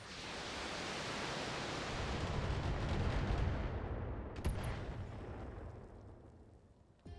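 In a BattleTech mech battle game, a tank is destroyed amid a long, heavy roar of explosions. The rumble swells, then tapers off, with a sharp burst near the end and no talk over it.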